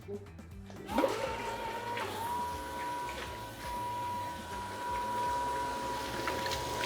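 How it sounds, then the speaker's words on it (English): Sewage grinder pump chewing up baby wipes dropped into its basin, a steady motor hum with a sustained whine after an initial splash and clatter, with continuous low churning and rattling throughout. "we're gonna drop baby wipes down in here and show you what the grinder pump does to them"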